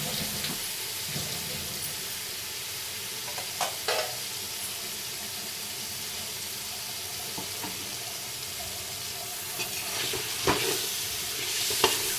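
Mint and eggs fry in a pan for egg biryani, a soft steady sizzle with occasional sharper crackles and light stirring scrapes, heard close and alone without talk.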